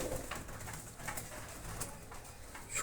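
Racing pigeons at a pigeon farm coo softly and continuously, with the gentle burbling calls overlapping against a low background hum.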